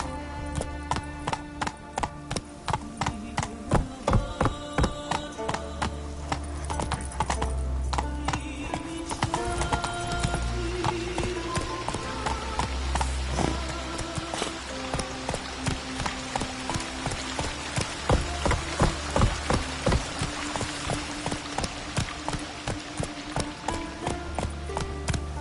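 Roach the horse trotting and galloping in The Witcher 3, hooves clip-clopping in a rapid steady rhythm for a long stretch over a low game music bed and ambient drone, with occasional louder thuds.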